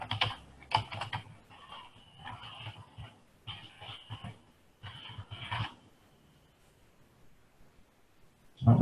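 Computer keyboard typing in rapid irregular bursts with short pauses between runs, close and fairly quiet, ending in a louder knock.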